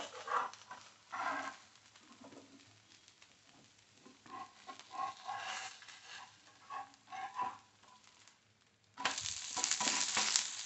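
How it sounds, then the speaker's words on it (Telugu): Carrot rava dosa cooking on a hot pan after being flipped, a steady crackling sizzle with soft scraping, growing louder and brighter near the end. "దోశని టర్న్ చేద్దాము."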